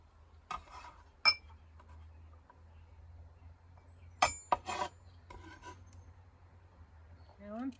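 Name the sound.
peeling ginger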